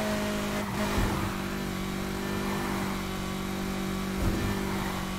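Car engine accelerating in the racing game Need for Speed Heat, a steady sustained hum and drone holding at constant loudness throughout.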